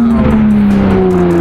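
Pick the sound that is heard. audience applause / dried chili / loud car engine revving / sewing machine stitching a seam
loud car engine revving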